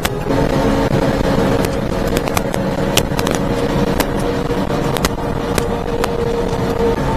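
A mini truck engine floored at wide open throttle, giving a loud, continuous roar with sharp pops and crackles scattered throughout, close and dense.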